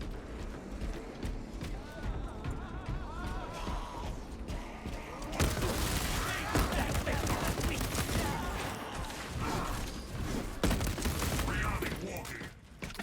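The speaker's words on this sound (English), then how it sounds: "Servo gun is fully operational." Servo gun fire in Space Marine 2 from a Techmarine build pours out as dense, sustained bursts under chaotic combat noise, growing louder and more continuous midway through.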